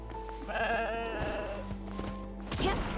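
Goat in the video game Genshin Impact, several short bleats that rise and fall across a few seconds over a low constant hum, with no talking.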